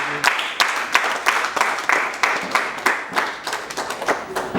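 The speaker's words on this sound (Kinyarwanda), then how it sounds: "Olivier, amashyi baguhaye ntabwo ari agukwiriye" Wedding guests clap in a dense, steady burst of applause, with sharp rhythmic claps repeating throughout and no voices on top.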